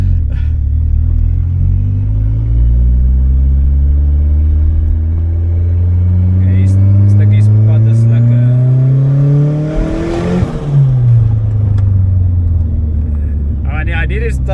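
A turbocharged Vauxhall Corsa B GSI making about 200 kW pulls hard under acceleration, its loud engine note climbing steadily through the gears with a brief lift partway through, then falling away and building again, the engine drowning out everything else.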